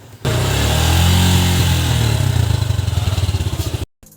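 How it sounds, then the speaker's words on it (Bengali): A motorcycle engine runs loud and close, a steady throbbing idle with rapid rattling pulses that cuts off abruptly. "আমরা বাইকের যে ইঞ্জিন সাউন্ড সেটা শুনবো"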